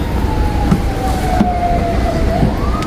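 Wailing ambulance and police sirens sweep slowly in pitch over a steady rumble of traffic in Jerusalem, fairly loud and continuous throughout.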